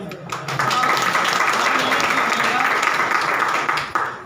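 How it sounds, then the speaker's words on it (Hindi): An audience at an indoor business meeting applauds: loud, dense, sustained clapping of roughly three and a half seconds that swells quickly and fades at the end. "उन सब के लिए जोरदार ताली"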